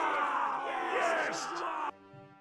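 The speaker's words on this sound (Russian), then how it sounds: "Офигеть, они орут." Soldiers yelling in a battle in the Mount and Blade video game, a loud mass of overlapping shouts and battle cries that cuts off abruptly near the end.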